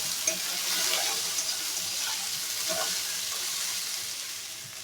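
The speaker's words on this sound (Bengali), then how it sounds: "আলুটা একটু ভেজে রেখে দেবো, তারপরে ঢ্যাঁড়সটা আলাদা ভাজবো" Potato pieces fry in a pan of oil at home, giving a soft, even sizzle with a few light crackles and no talking.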